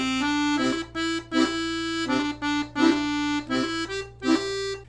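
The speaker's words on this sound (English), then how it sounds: "So let's imagine we're playing Mary Had a Little Lamb with straight eighth notes" A 72 bass accordion plays Mary Had a Little Lamb in even straight eighth notes, bright reedy melody notes pulsing over a low sustained bass drone, close and clear with no talking.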